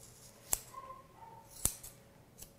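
Grooming scissors snip through a poodle's hair, two crisp, close cuts about a second apart with a softer snip near the end, against a quiet room.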